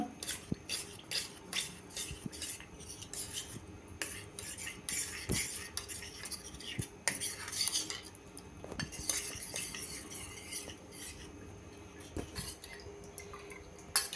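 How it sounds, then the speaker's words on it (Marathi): A spoon stirs cornflour into a little water to make a slurry for mixed vegetable soup, with close, repeated metallic clinks and taps against the bowl over a soft liquid swish and no talk. "चमच्याने मिक्स करायचं"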